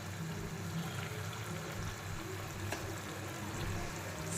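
Quail meat fries in a pan over a medium flame, giving a steady, even sizzle that stays at a constant level throughout with no voices.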